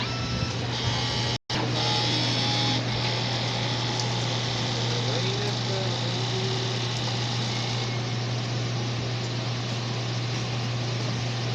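A DTF printer in its head cleaning cycle gives a steady mechanical drone with a constant low hum and broadband pump-like whir, loud and continuous throughout, with one brief dropout early on.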